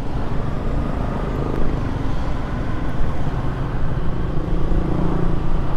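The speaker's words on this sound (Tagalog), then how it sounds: "Pinapakaramdaman pa natin tong Gixxer natin na 155 eh. Ang smooth ng makina niya" A 2024 Suzuki Gixxer 155 FI motorcycle's single-cylinder engine runs smoothly at a steady idle, a continuous low rumble close by with faint background noise and no speech.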